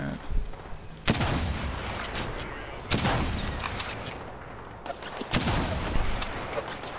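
Gunfire in the battle-royale shooter Apex Legends: loud, dense bursts of shots and impacts with sharp attacks near 1, 3 and 5.3 seconds, continuous over busy game noise.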